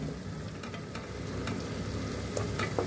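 Frying in a pan while cooking paya curry, a soft, steady sizzle with scattered crackles and occasional light scraping of a stirring utensil.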